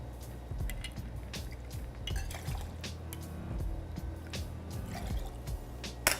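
Gin poured into a cocktail shaker already holding fresh lime juice and simple syrup, heard as close liquid trickling and dripping with light clinks of glass and metal, steady and near, with no talk.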